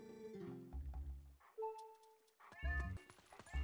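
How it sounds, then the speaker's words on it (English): A cat in the video game Twilight Princess lets out a few distinct, drawn-out meows, loud and close, with brief gaps of quiet between the calls and no talking over them. "Yeah, talk to the cat."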